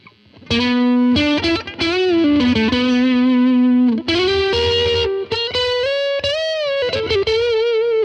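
Electric guitar through overdrive and boost pedals into a clean amp in AmpliTube 5 plays a sustained melodic line with bends, thick, distorted and loud throughout, no voices.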